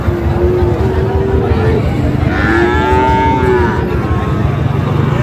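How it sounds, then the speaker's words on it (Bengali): Sahiwal bull calves at a rural cattle market low in long, drawn-out moos, loud and close, over a constant hubbub of crowd noise and nearby voices. "এখানেও দুটো বাছুর দেখছি আমরা"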